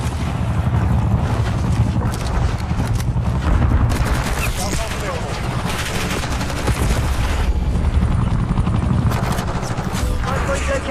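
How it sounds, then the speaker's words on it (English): An enemy Watchdog helicopter in the video game Black Ops 6 drones under dense, loud gunfire and machine-gun bursts in a busy multiplayer battle, with voices heard in the mix. "Enemy watchdog helo inbound."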